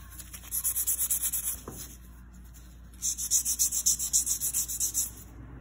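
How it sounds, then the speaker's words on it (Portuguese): A banana-shaped buffer file polishing a gel fingernail, heard close up as two bursts of quick, rhythmic back-and-forth rubbing strokes with a short pause between them. "Essa lixa aqui, copiei aqui, dá polimento na unha."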